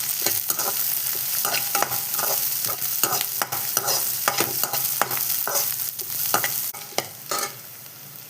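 Two green chillies sizzle steadily in hot oil in a pan while cooking carrot rice, with a ladle's repeated stirring scrapes and clicks cutting through the continuous frying hiss, close and fairly loud.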